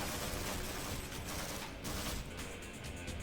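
Rapid automatic MP5 fire from Half-Life Ray Traced, a dense, loud, continuous burst of game gunshots filling the whole moment with no talk.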